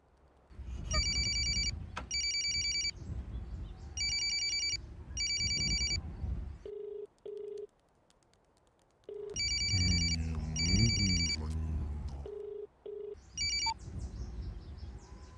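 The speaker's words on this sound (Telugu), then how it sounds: "ఫోన్ లిఫ్ట్ చేయడానికి ఎంతసేపు పడుతుంది నీకు?" A telephone rings repeatedly in bursts of electronic trilling, close and clear, with brief gaps and a low hum between rings and no speech over it.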